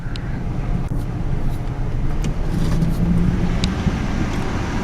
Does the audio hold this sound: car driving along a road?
yes